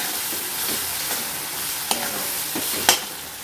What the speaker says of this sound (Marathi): परत एकदा हलवून घेऊयात आपण।